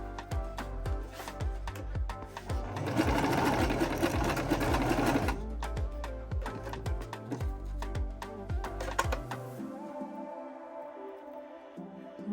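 A sewing machine stitches a ruffle-neck blouse in bursts of rapid, close ticking needle strokes, pausing briefly and then running again before stopping near the end; no talking.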